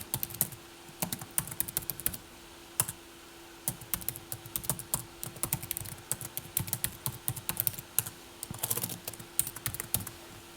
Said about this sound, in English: now that I've typed in my info